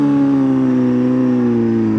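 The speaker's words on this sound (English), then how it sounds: "you can hear it revving up" A steady motorcycle engine drone with a strong low hum, its pitch sliding slowly downward as it holds, close and loud, with no talk.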